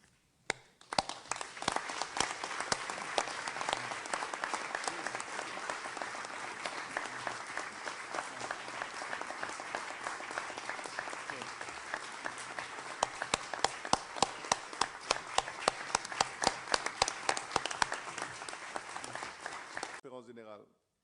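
Sustained applause from a large crowd filling an assembly hall, steady clapping that rises in sharp bursts before stopping abruptly.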